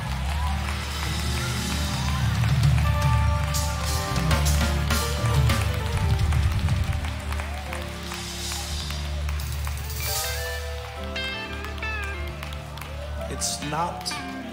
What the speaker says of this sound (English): Come on, clap those hands like you know it.